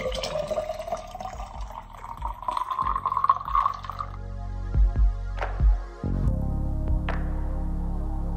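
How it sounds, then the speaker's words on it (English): Water runs into a container with a tone that climbs steadily as it fills, followed by a few sharp clunks and taps and a low steady hum, all close by and fairly quiet. "I'm gonna put some water in here to take upstairs"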